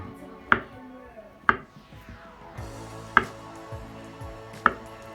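A knife chops through a red banana on a cutting board in four sharp, separate strokes with short pauses between them, each hit close and crisp, with no talking.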